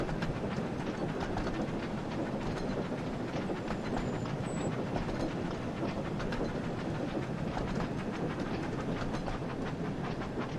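A train running on rails in a Thomas & Friends video game makes a steady, close rumble with rapid clickety-clack and faint hissing. It carries on evenly for about ten seconds with no talking over it.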